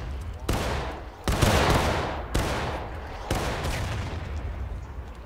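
Musket volleys fired by a line of soldiers in War of Rights, four sharp, loud cracks spaced about a second apart, each trailing a rolling echo that fades before the next.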